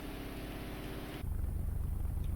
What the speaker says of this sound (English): That's kind of like a more kind of throaty engine.